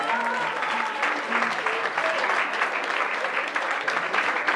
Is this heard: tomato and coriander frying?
no